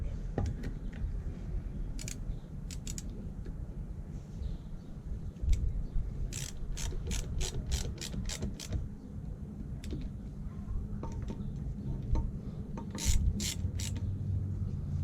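Ratchet tightening engine bolts during an engine rebuild, with repeated bursts of quick clicking pawl strokes, fairly close, over a steady low workshop hum.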